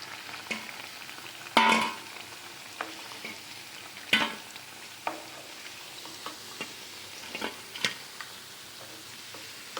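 Drumstick leaf vadas frying in oil in a pan: a low, steady bubbling sizzle with a few sharp clinks and scrapes from turning them, close by, with no talking.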